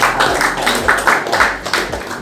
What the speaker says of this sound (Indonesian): kita tepuk tangan lagi untuk para